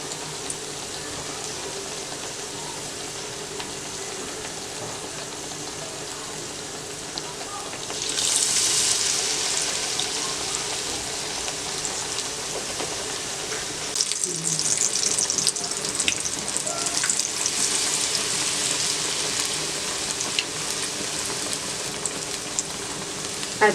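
Batter-dipped bread pakoras fry in hot oil, a dense rain-like hiss that swells noticeably louder partway through as more pieces go in.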